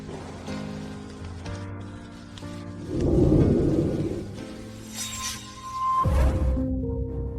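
Steady rain falls throughout, a dense patter on surfaces with swelling gusts of downpour and faint tonal background sounds, no voices heard.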